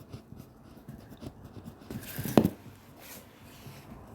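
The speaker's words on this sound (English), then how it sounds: "Let me write down what ball I used." A note is written down during a mobile golf game session, a quiet scratchy pen-on-paper scribble with soft irregular strokes and one brief louder scrape in the middle.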